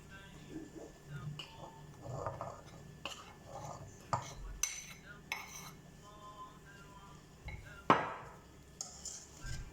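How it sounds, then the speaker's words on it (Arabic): Flour being mixed into cake batter for a nut cake: soft clinks and scrapes of a utensil against a bowl come in irregular strokes, with a faint voice talking underneath. "احاول انزل الطحين وامزجه ويا الخليط"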